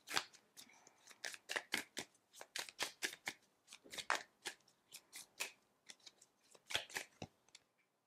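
Tarot cards being shuffled by hand close by: crisp, irregular bursts of riffling and flicking, some quick runs and some single snaps, with short pauses between them and no speech.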